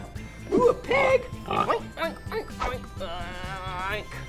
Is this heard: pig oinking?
yes